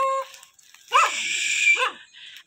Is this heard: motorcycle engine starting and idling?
no